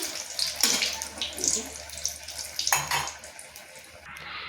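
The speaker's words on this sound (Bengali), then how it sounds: "আমি আরেক পিঠটা ভেজে নিচ্ছি।" Egg chops sizzling in hot oil in a home kitchen, a steady close hiss with occasional louder spatters and pops, the second side being fried.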